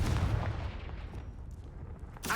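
Hogwarts Legacy's Confringo blasting spell hits with a heavy, booming low thump that decays over about two seconds, and a sharp crackling burst snaps at the very end. The sound is moderately quiet, with no talking.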